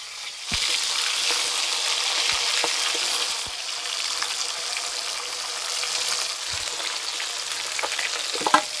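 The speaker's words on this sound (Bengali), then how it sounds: "একটু লাল লাল করে ভেজে নেব।" Pangas fish frying in a pan until reddish: a continuous loud sizzle with occasional stirring clinks and scrapes, no voices.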